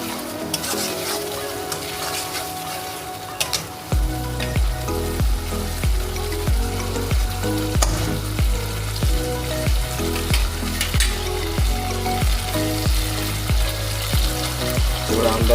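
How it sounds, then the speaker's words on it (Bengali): Spice paste mixed with yogurt fries and is stirred hard in a pan for a Bengali malai pabda fish dish. The oil crackles quietly at first, then a loud steady sizzle with regular rhythmic scraping strokes takes over. "ভালো করে মশলাটাকে কষিয়ে নিচ্ছি"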